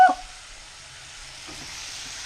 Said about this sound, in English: I think I added too much olive oil, to be honest with y'all, because it's starting to bubble up a little bit